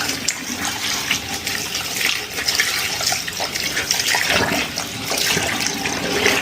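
Water runs steadily from a tap while a container is rinsed out, a close, continuous splashing hiss that lasts throughout.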